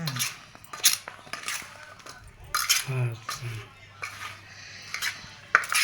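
Spoon scraping and clinking against a bowl while mixing homemade raw amla pickle with whole mustard dal, a run of close metallic clinks and scrapes in quick irregular bursts, with faint voices in the background.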